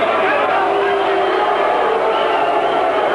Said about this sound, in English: This crowd is now booing Ali for his failure to put up a fight here in the 10th round